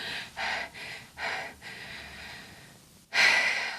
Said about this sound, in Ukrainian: Зараз дихаємо звичайно.